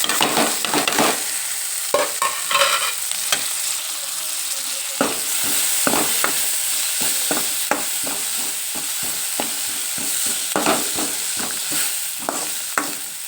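Poha tempering frying in a pan with turmeric, curry leaves and coriander, a steady close sizzle broken by repeated sharp scrapes and clanks of stirring, with no talk.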